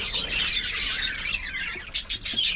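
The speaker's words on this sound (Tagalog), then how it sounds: "At yung mga parakits natin" A flock of backyard pet parakeets chirps continuously at close range, a dense high twittering chorus with a few sharper repeated calls toward the end, with no talking over it.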